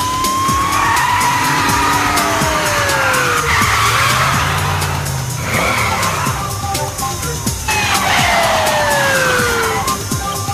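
A car speeds through a chase with tires skidding and squealing in long, loud, sweeping screeches over a steady engine roar, in a dramatic scene from L.A. Heat.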